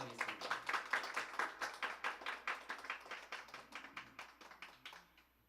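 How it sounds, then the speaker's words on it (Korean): A small church congregation claps in welcome for performers at an Easter Sunday service, a quick even run of hand claps that starts strong and gradually fades over several seconds, with no talking. "박수로 환영하도록 하겠습니다"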